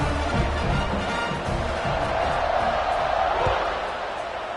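Stadium crowd noise in a football video game after a kickoff, a steady loud roar and murmur filling the whole stretch beneath commentary.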